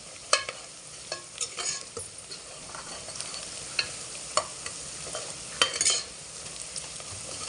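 Onions and green chillies frying in oil inside a pressure cooker give a steady soft sizzle, broken by scattered sharp clicks and scrapes of stirring, fairly quiet with no talk.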